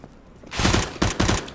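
Rapid bursts of automatic gunfire from a CS:GO shoot-out in a kitchen area, three sharp clusters of shots after a quiet start, loud and close.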